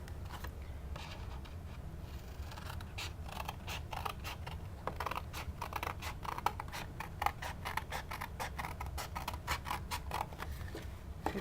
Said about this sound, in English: you're going to take your scissors, and where this score line is, we're going to cut all the way from here to right here